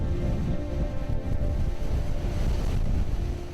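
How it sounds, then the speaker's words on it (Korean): Strong gusty wind batters the microphone over rough surf around a small island off Jeju as a typhoon approaches, making a dense, continuous roar of wind and crashing water. "바람과 파도도 점점 거세집니다."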